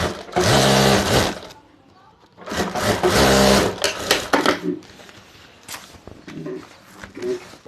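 A sewing machine stitches a handbag lining in two long loud whirring bursts, then shorter intermittent runs and handling noises.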